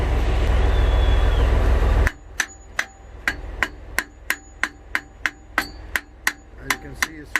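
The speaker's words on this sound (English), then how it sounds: "just use a hammer and hit right here, so you can tighten it a little bit" After a steady engine-like drone cuts off, a hammer strikes a metal plate on a truck reefer unit about a dozen times in an even, sharp rhythm, close and loud.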